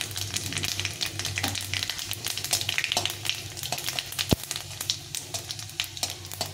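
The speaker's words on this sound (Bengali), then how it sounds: "একটু ভালো করে ভেজে নেব" Dried red chillies and panch phoron frying in hot oil, an even crackling sizzle close by with light stirring taps and a brief sharp clink.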